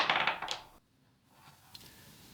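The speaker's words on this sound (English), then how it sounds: "that means roll a 6-sided dice" A six-sided die rattles and tumbles across a surface in a quick burst of clatter, then stops, with a faint later tap in a quiet room.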